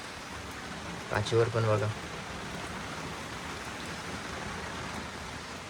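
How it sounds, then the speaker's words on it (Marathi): Heavy monsoon rain pours steadily in the Konkan countryside, a dense even hiss throughout, while someone speaks briefly over it near the start. "बघा चांगलो लागत आहे पाऊस."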